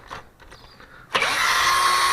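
A motorized tool whirs up suddenly and runs steadily to loosen a 10mm bolt on the throttle body of an Optima Hybrid, after some quiet clicks and handling sounds near the car.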